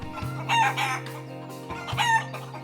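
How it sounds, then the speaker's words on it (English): Chicks and chickens on a farm cluck and crow in a busy, overlapping chorus, close by and fairly loud, with no one talking. "I'm greeted with a cacophony of contented chicks"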